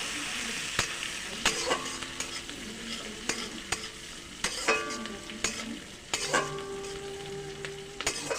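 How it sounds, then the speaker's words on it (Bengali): Cumin seeds, torn green chilies and curry leaves fry in hot oil, giving a soft steady sizzle broken by sharp clinks and scrapes of a utensil stirring in the pan, with no talking. "জিরে, কাঁচা লঙ্কা, কারি পাতা ভাজা হয়ে গেছে"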